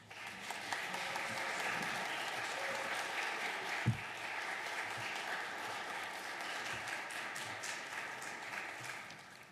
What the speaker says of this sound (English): join me in welcoming with a round of applause our newest members.